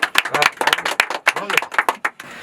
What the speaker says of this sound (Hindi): तो एक बार तालियां हो जाए